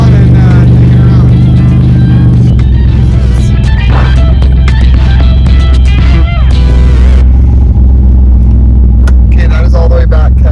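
Pontiac Fiero with a swapped-in 3.8 V6 launching as the clutch is dumped in gear, a loud sustained engine roar and rumble that jumps in level and surges throughout, with people talking over it.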